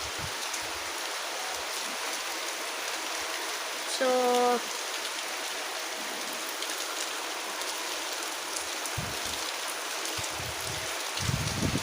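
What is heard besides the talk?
heavy rain falling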